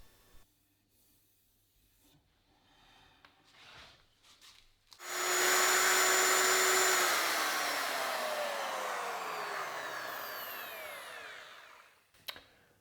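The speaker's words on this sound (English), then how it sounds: "And now the router is finally back in action and it works as well as it used to." After some quiet handling clunks, an AEG MF 1400 KE router switches on with a sudden loud, high whine and spins up. It runs steadily, then winds down in a falling tone, close and alone, ending with a click.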